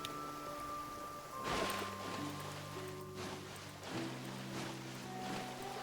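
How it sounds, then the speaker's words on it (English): Steady rain in the game Genshin Impact patters in a soft, continuous wash, with low sustained music tones running underneath throughout. "It makes sense why it would be raining."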